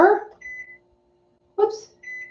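Electronic beeps from a waffle maker's timer being set, two short bursts of steady tones with a pause between, close and clear in a kitchen.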